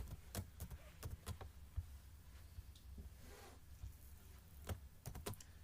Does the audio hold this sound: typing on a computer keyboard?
yes